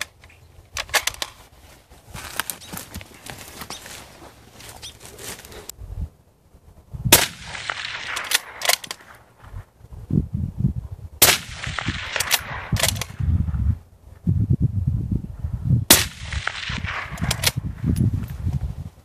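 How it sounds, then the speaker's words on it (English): Repeated rifle shots fired from a bipod dug into concrete, sharp loud cracks in irregular bursts with echoing tails, several close together in quick follow-up strings across the span, no talking. "So you can see I was able to shoot very effectively, very quickly, without much recoil."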